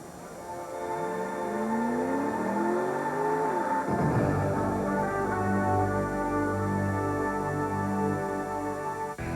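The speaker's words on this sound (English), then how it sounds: "the command to fire the engines for the MBNA Platinum 400" Stock car engines for the 2000 MBNA Platinum 400 NASCAR race fire up together and rev, a dense, loud, continuous roar of many engines with rising and falling pitches and no talk over it.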